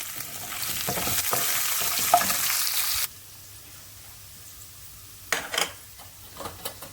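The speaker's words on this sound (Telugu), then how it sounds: "వెల్లుల్లిపాయలు చిన్నగా దంచి వేయాలండి." Crushed garlic hits hot oil in a pan for a Telugu-style amaranth leaf fry with urad dal, giving a loud, dense sizzle for about three seconds before dropping to a quieter hiss with a few scraping clinks.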